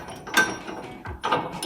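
A body lift bolt being worked loose on a 2009-2018 RAM 1500 with a ratchet tool, giving close, brief metallic ratcheting bursts separated by short pauses.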